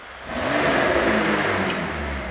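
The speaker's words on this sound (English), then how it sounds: "you got to literally put your foot all the way down on the brake to start it" A 2019 McLaren 600LT engine fires up and revs hard in a studio, a loud sustained roar with rising and falling pitch, close by.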